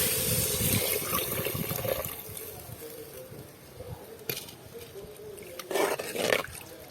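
Tamarind water poured into a pan of catla fish curry with mango, giving a steady liquid pour and splash that swells near the end, close and fairly loud with no talking.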